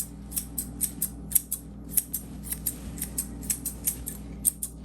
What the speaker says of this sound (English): I'm using straight scissors right now,